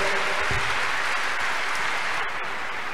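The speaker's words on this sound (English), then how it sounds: "Clap unto this great God." A church congregation claps together in sustained, dense applause at worship, steady and loud throughout with a brief faint voice early on.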